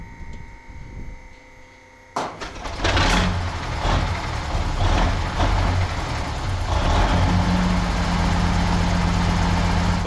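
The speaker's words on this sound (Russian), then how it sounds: "Сейчас запущу мотор и накачаю, чтобы он стоял ровненько, аккуратненько" A BAZ 5937 truck's engine starts and then runs steadily at a loud, close idle, a low rumble that holds throughout while it powers tyre inflation.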